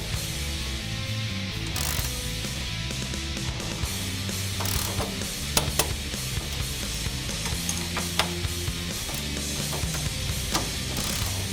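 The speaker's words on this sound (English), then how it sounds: "Now we'll tighten them to 30 foot-pounds." Torque wrench ratcheting as sway bar bolts on a 1967-1970 Mustang are tightened to 30 foot-pounds, a steady run of close, rapid clicking with a few sharper ticks standing out.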